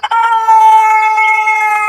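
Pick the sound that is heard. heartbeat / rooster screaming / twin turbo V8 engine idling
rooster screaming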